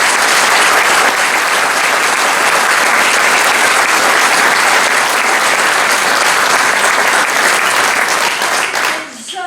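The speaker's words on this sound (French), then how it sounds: "Nous vous demandons un tonnerre d'applaudissements pour Thierry Lemay." A theatre audience gives loud, sustained applause at the close of a stage show, dense clapping filling the whole stretch before tapering off abruptly at the very end.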